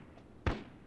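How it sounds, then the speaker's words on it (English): An M203 grenade launcher fired in the Full Spectrum Warrior video game, a single short, deep thump that rises out of quiet background and fades quickly. "M203, fire!"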